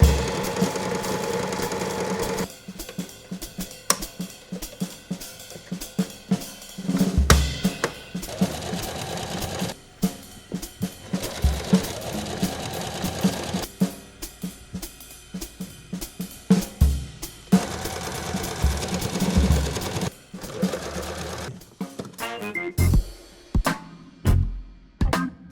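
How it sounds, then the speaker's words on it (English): A sewing machine runs in long, busy bursts, zigzag stitching patches onto old clothes to upcycle them; a rapid mechanical whir and chatter, close and fairly loud, with short pauses and clunks between runs. "I'm gonna rewind this bobbin and then we're gonna get to zigzag stitching"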